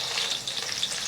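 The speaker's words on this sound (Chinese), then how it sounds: "锅中加油，葱姜蒜爆香" Scallion, ginger and garlic frying in hot oil, a dense, bright sizzle that is close and steady throughout a short burst, with no voices.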